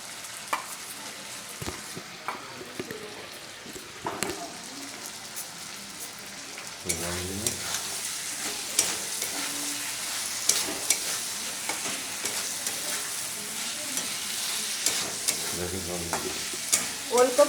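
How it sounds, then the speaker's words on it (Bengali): Fried kohlrabi stirred into sizzling spice paste for a rohu fish and potato curry, a crackling fry that grows louder midway, with repeated spatula scrapes close by. "এবার আমি ভেজে রাখা ওলকপিগুলো দিয়ে দিচ্ছি। ওলকপি দিয়েও মশলাটা ভালো একটু কষিয়ে নিয়ে জল দিয়ে দেবো।"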